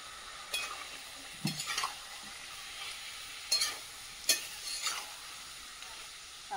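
Food cooks in a pot over a wood-fired clay stove, with several short scraping stirs and clatters spaced a second or so apart above a faint low sizzle. It is quiet and close.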